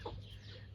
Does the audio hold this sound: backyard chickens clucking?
yes